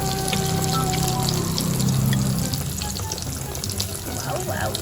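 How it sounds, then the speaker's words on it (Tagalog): Pork cutlet for katsudon frying in hot oil, a steady loud sizzle and crackle that continues throughout, with faint background noise. "pwede na to for frying"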